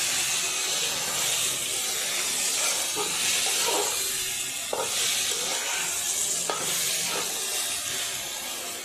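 Dry spices, cumin, coriander, turmeric and chilli powder, being stirred as they fry in a pan for a potato curry with cauliflower and peas: continuous close sizzling hiss with occasional spoon scrapes and clicks.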